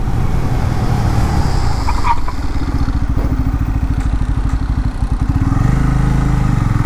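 A Bajaj Pulsar N250 motorcycle during a braking test, its engine loud and close with a rough, pulsing note that dips as speed drops, then picks back up near the end; no talking.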